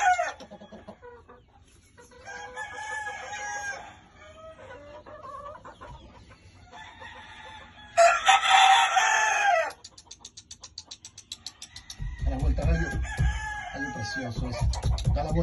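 Chickens cluck and squawk close by, and a rooster crows loudly partway through, amid other farmyard bird calls.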